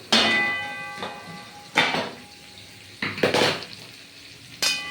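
Drumstick vegetable curry frying in a pan, with several bursts of metal clatter and scraping as it is stirred, separated by quieter stretches of soft sizzling.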